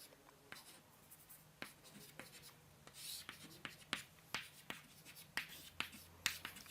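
Chalk or marker writing on a board during a maths lecture on hyperbolas: a steady run of sharp taps and short scratchy strokes at an irregular pace, moderately close, with no speech over it.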